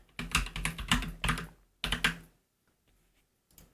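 Bursts of typing on a computer keyboard while a VM name is entered, several quick runs of keystrokes close up, then a pause with a few faint clicks near the end.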